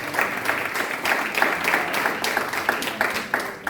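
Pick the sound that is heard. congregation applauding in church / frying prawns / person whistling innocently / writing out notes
congregation applauding in church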